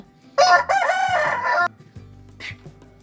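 A tired rooster, kept in a cage and bleeding near the beak, gives one loud, close cock-a-doodle-doo lasting just over a second, followed by quieter rustling and a faint short call.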